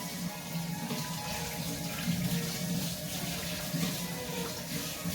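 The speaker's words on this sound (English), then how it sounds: "rinse this out" Tap water runs steadily into a kitchen sink as a meatball-making utensil is rinsed out, a close continuous splashing rush with no pauses.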